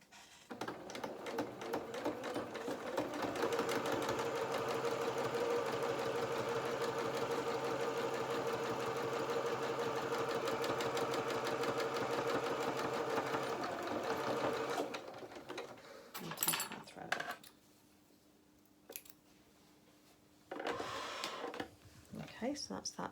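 Sewing machine stitching a felt doll duffle coat seam with a quarter inch allowance, a rapid rhythmic mechanical chatter running steadily for several seconds, then stopping and giving way to short handling noises and pauses.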